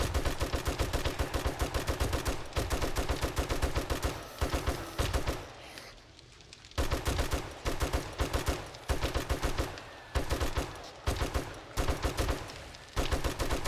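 Repeated gunfire from a weapon in the video game 7 Days to Die, set in a desert base. Loud, rapid bursts of shots come in clusters, with a brief lull in the middle before the firing resumes.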